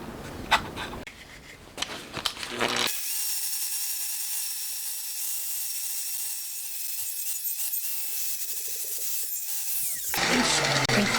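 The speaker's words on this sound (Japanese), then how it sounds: "これを溶接する前準備として、ここ地肌をちょっと出してきます。" A power tool grinds an aluminium intake manifold down to bare metal before welding on a four-cylinder motorcycle engine build, a steady high whine running for about seven seconds between rubbing and handling noises.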